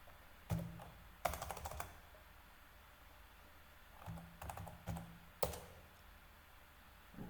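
Someone types a password on a computer keyboard, soft scattered keystrokes in a few short bursts with pauses, close and quiet in a still room.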